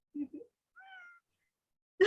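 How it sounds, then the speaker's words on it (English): A house cat gives a short meow, a few brief faint cries with a bright harmonic call in the middle, alone in a quiet room. "Morgan's cat Ambrose is, we refer to him as our little mascot"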